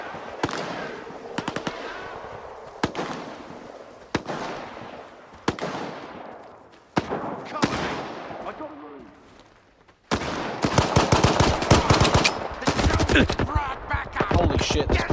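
Pistol fire in Stalker 2: Heart of Chornobyl, played on Xbox, gives sharp single shots spaced a second or so apart, then a dense burst of rapid cracks and impacts near the end, with a voice talking over parts of it.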